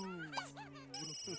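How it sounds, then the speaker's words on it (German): A mobile phone rings in the video game The Sims 3 with a bright electronic tone that rises and falls in a short melodic pattern, heard fairly softly. "Du kannst doch direkt mal an dein Handy gehen."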